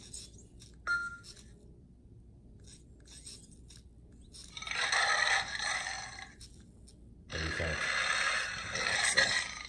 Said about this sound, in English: Alexa, what sound does a tiger make?